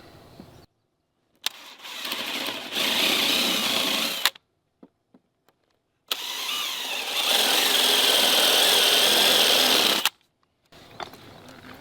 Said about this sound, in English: And we can just countersink these just a little bit.